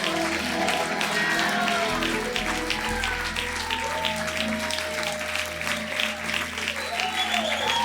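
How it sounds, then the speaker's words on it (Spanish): A church congregation applauds loudly and continuously, a dense wash of many hands clapping with faint voices mixed in. "Apláudele como Él se merece"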